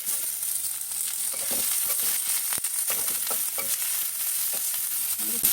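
Onions and green chilies fry in a pan, turning red, for a potato and egg omelette curry. A steady, loud sizzle runs throughout, with occasional soft stirring scrapes and no talking.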